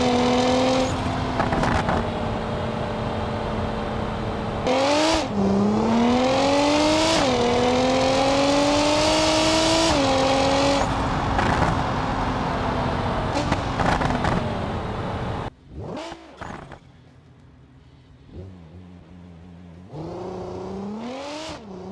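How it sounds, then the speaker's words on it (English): A loud, raw Nissan GT-R R35 engine with no exhaust, in BeamNG.drive, revs hard in repeated pulls and shifts, its pitch climbing and dropping, then sputters and crackles near the end before revving again. "have you guys ever heard a GTR Nissan without the exhaust?"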